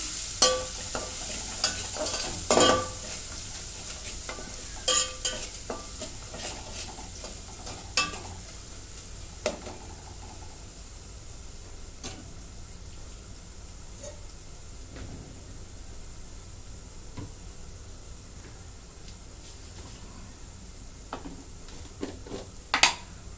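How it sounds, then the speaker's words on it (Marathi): A paste of garlic and coriander sautés in a pan with browned garlic and coconut, a soft steady sizzle broken by scattered sharp scrapes and taps of a spatula stirring, no voices. "लसूण आणि कोथिंबीर ह्याची पेस्ट आहे ती टाकून घेते दोन मिनटं परतून घेते"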